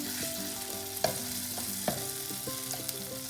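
Oil sizzles steadily as tomatoes fry in a pan with mustard seeds for a South Indian kaara chutney, with a few sharp stirring clinks over the constant close crackle and no voices.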